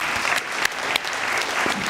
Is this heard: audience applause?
yes